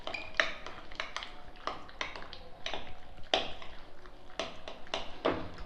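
A utensil stirring eggs into potato and cauliflower curry in a pan, with repeated close metallic taps and clinks scraping against the pan at an uneven rhythm.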